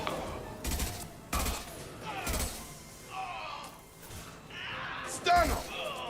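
Bursts of gunfire in Mass Effect 2 combat come in several short, sharp volleys spaced a second or so apart. People talk between and over the shots.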